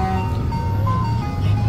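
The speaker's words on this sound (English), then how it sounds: "Oh my god, there's an ice cream truck." An ice cream truck's jingle melody rings out over a low rumbling engine at a summer festival, fairly near and steady through the brief moment.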